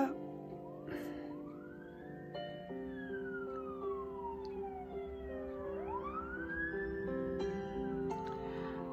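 An ambulance siren passes outside, its wailing tone rising and falling in long sweeps at moderate distance over a steady background hum, heard from indoors.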